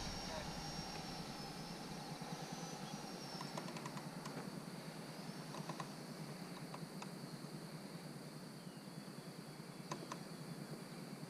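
Freewing F-22 Raptor RC jet with a 12-blade 90mm electric ducted fan and inrunner motor flying on its maiden flight, a steady high whine heard from a distance outdoors, with faint voices now and then.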